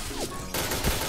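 A brief burst of gunfire from the shooter game Point Blank, a quick close shot or two with a sharp onset over a busy background, lasting about a second.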